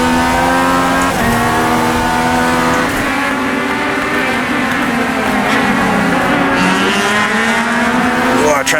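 Race car engines roar continuously in the iRacing sim, loud and close, with revving pitch shifts as gears change and another car close behind, the engine drone filling the whole stretch without pause.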